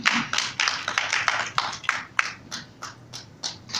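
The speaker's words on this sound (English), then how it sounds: "clap your hand if you change your direction" A church congregation claps hands in a fairly regular rhythm, sharp individual claps repeating about every third of a second, close and moderately loud with no voices over them.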